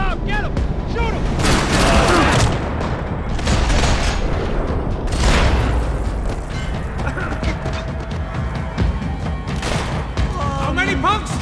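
Rapid bursts of gunfire rattle through a Max Payne 3 shootout, dense and continuous with booming shots layered over shouting voices for the whole stretch.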